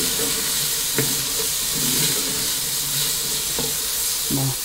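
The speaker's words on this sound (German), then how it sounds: "Es ist an der Zeit, die Zwiebeln dazu zu geben. Ebenfalls ein bisschen anrösten." Onions frying in a Dutch oven, a steady loud sizzle and hiss with a few scraping stirs and clanks throughout, no voices.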